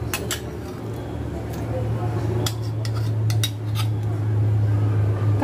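A spoon stirs payesh, a milk rice pudding thickened with cashew paste, in a pot. Scattered metallic scrapes and clinks land irregularly over a steady low kitchen hum.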